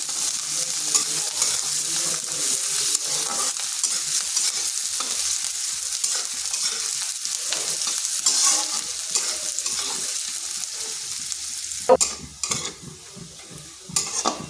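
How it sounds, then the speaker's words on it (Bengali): Two medium onions frying with whole cumin in a pan of hot oil for a drumstick-leaf dal, a steady close sizzle broken by repeated scraping stirs and a few sharp utensil clanks near the end. "পেঁয়াজটাকে একটু ভেজে নিচ্ছি।"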